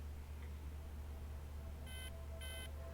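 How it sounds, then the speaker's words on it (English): A spacecraft master alarm tone from a TV drama sounds in two short electronic bursts, bright and steady, over a constant low hum with no talk. "Master alarm, master caution lights in tone."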